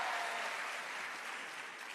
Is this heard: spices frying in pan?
no